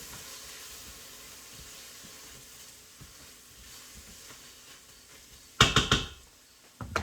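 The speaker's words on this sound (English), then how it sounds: "let me stir my onions in here again" Onions sizzle in a frying pan as a steady soft crackle and hiss, then a spoon stirring them sets off a couple of loud scraping, clattering bursts near the end.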